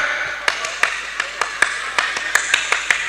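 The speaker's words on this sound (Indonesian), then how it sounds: "Tepuk pramuka" Scout clap from a crowd at a lively Islamic sermon gathering, a series of sharp, unevenly spaced claps building into a rhythmic pattern, moderately close, with faint background chatter.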